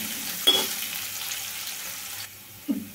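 Curry leaves and spices fry in hot oil for a pesara pappu kurma, a steady soft sizzle with a couple of brief stirring clinks.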